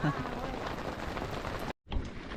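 Heavy monsoon rain pours down on a Konkan village, a dense, close hiss of drops on surfaces that cuts out for a brief moment near the end and then resumes.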